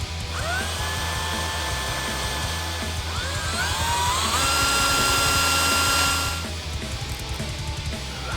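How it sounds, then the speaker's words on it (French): A benchtop drill press bores into a metal support bracket with a loud, steady motor whine and rising, bending squeals as the bit bites. The pitch settles as the cut eases near the end. "le support, je vais le faire à la perceuse."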